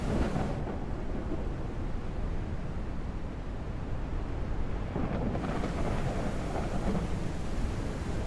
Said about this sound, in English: Something that is most noticeable during heavy rain and thunder